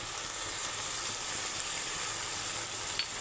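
Ginger garlic paste hitting shrimp frying in hot oil for potol chingri, a steady close hiss of sizzling that runs evenly throughout with a small click near the end.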